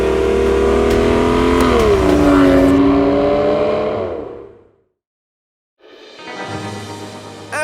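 A 2014 Aston Martin V12 Vanquish engine revs loudly up and down, cuts to silence, then roars back with another rising rev nearby.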